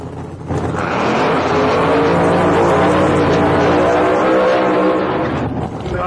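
A nitrous-equipped drag racing door slammer driven by Fred Hahn roars loud and close in a sustained, full-throttle engine blast that holds steady for several seconds before easing slightly at the end.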